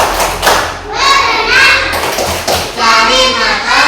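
Children in a classroom chant the rhythmic 'tepuk ikan' clapping song together, loud voices in unison punctuated by firm, close thumping claps in a lively pattern.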